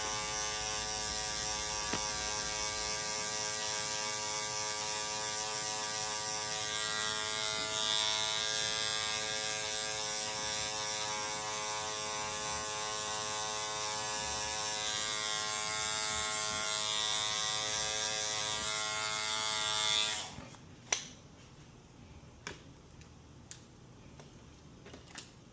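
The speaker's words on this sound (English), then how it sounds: "I got the clipper like halfway open." Hair clippers buzz steadily during a high taper fade haircut, a close, continuous electric whine that cuts off near the end, followed by a few faint clicks and taps.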